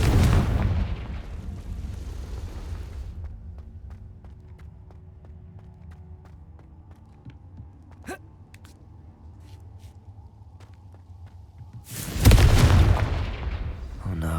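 Confringo fire spell blasts in the Hogwarts Legacy video game: a loud, roaring burst at the start and a second heavy explosion near the end, separated by quieter game ambience, with a brief spoken exclamation.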